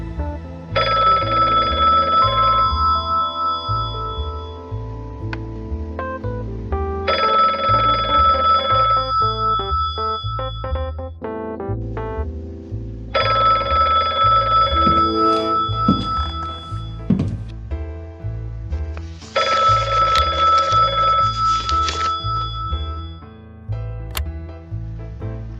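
A telephone bell rings loud and close in four long bursts separated by short pauses, with a steady low rhythmic tone running beneath throughout.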